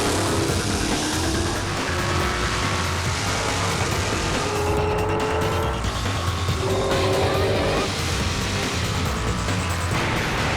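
Drag racing cars, including a 1966 Chevy Nova, launch off the line with a loud, dense engine roar. Tire squeal cuts through in the middle, and the sound stays close and overwhelming throughout, with no speech over it.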